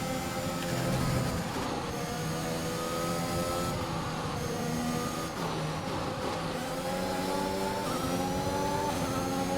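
A Formula 1 car with an engine fault in the F1 2021 video game, its engine droning steadily and loudly throughout with shifting pitch as it revs, a continuous race-car whine with no talk.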